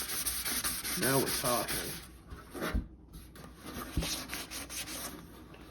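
Sanding the corners of an acrylic turntable dust cover with 400 grit paper gives close, steady scratchy rubbing strokes with short pauses, and someone speaks briefly over it.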